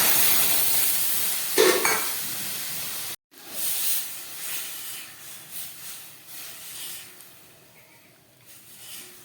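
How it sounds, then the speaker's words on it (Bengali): Arhar dal poured into hot spice tempering of cumin powder and turmeric, a loud hiss and crackle that cuts off abruptly, then returns as quieter, uneven sizzling and bubbling. "এবার আমি ডালটাকে ফোড়নে দিয়ে দিই।"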